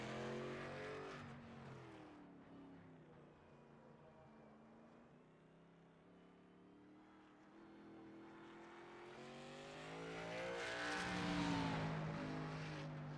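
A NASCAR Cup car races in iRacing at Indianapolis Motor Speedway. Its engine is a faint, continuous harmonic drone that rises and falls in pitch, then swells louder near the end as the car passes by.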